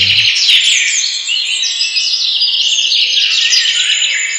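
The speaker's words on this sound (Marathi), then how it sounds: "पक्ष्यांची किलबिल तुमच्या माझ्या कानावर येते." Birdsong fills the clip, a close, loud, continuous stream of high twittering and warbling chirps with no talk, dense from start to finish.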